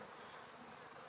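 Honey bees buzz around a trap hive as they return home, a faint continuous dense hum of many wings at close range, with no voices.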